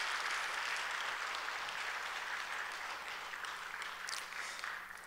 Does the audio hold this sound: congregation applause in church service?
yes